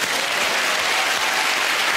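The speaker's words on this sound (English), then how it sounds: "they're applauding" A studio audience applauding in a dense, even burst of clapping that holds steady for a couple of seconds, close and full, with no talking over it.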